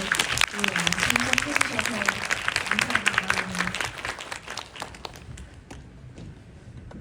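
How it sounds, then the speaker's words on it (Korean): Audience applause for a novelist at a Korean film festival Q&A, with a dense burst of clapping across the room that fades toward the end while a speaker talks over it. "저 작가님께 박수 한번 드릴까요?"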